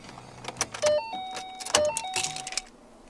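A 2014 Ford Mustang V6 engine shuts off, its low idle dropping away midway, while keys jingle nearby and thin electronic chime tones ring over the quiet cabin.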